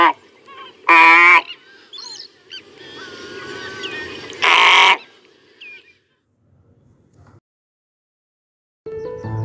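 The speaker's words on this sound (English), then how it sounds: "Call of greater flamingos." Greater flamingos give loud, goose-like honking calls in a few separate bursts, close and clear, with quieter murmuring and chatter between them and a pause before another call.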